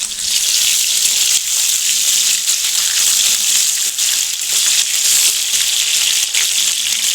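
Curry leaves are tempered in hot oil, giving a steady, dense frying sizzle that stays loud and close throughout with no voices.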